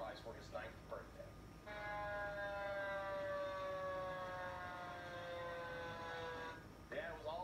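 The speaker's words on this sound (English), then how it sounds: "it was all lights and sirens as Fairfax County fire trucks led a parade of well wishes for Benjamin Snyder" Fire truck sirens wailing during a birthday parade in Fairfax County, a long steady siren tone sustained for several seconds outdoors and fading out, with faint other sounds at the start and end.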